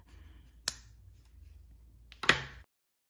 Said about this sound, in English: Fold it one more time and we're going to cut just the tip